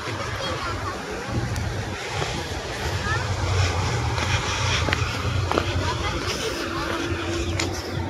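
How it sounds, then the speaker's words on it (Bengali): Wind sweeps through a green village, roaring in steady gusts against the microphone with a low, buffeting rumble that never lets up. "বাতাস বাতাস আর বাতাস।"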